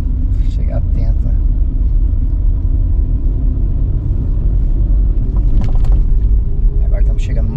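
A car crawls through heavy night traffic during a driving lesson, braking and downshifting toward a roundabout, its engine a low steady rumble up close with brief clicks and faint chatter over it.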